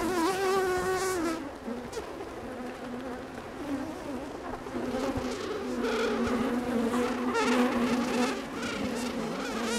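Honey bees buzz steadily around a Flow Hive during a hive inspection, a dense, close swarm hum with shifting pitch that swells and fades throughout, no voices.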